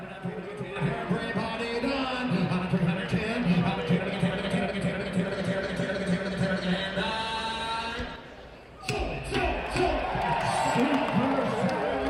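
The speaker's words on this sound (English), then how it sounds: "crowd was going wild." Crowd at the Barrett-Jackson Scottsdale collector car auction roaring and cheering loudly over a truck sale, dense continuous shouting and noise, briefly dipping before surging back, with voices mixed in.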